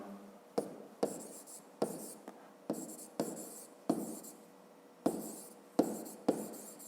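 A pen writes an answer in a fifth-grade math rounding exercise, making short, crisp scratching strokes close to the mic in a quick irregular rhythm, with brief pauses between strokes and no talk.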